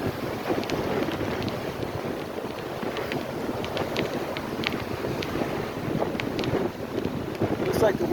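Strong wind gusts steadily across the microphone on Fort Myers Beach, Florida, a loud rushing blast that lasts throughout with brief faint clicks.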